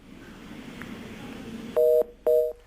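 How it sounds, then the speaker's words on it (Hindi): Two electronic two-tone beeps sound in quick succession as a telephone call cuts off, following a stretch of faint line hiss; no talk is heard. "रामेश्वर चौरसिया का फिर फोन कट गया।"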